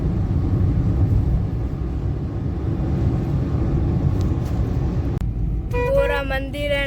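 Road traffic rumbles steadily near Dwarka temple with parking full ahead, a dense, continuous low engine drone under voices, cut by a brief sharp knock before a more open, lighter stretch at the end.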